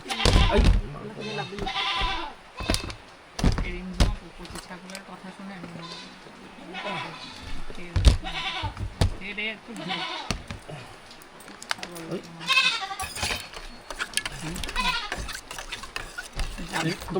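A young goat bleats repeatedly amid a busy, noisy background with people talking nearby; the bleats come in bursts across the recording.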